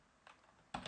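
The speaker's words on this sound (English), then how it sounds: "If I type in nmap" A few soft keystrokes on a computer keyboard, faint and close, two light clicks separated by a short pause.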